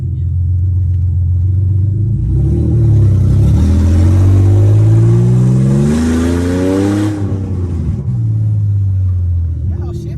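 An Infiniti G37 with a swapped VR30 engine revs up through the gears, its rising drone dropping at each shift before climbing again, loud and close from inside the car, with voices talking over it.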